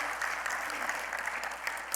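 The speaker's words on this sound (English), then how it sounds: "I think that's worth an applause." A short burst of applause from a church congregation, steady clapping throughout that fills the whole moment.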